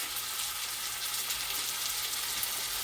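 Vegetables cook in a pan for a vegan bowl with tofu, a dense, even frying sizzle held close and steady, alone without talking.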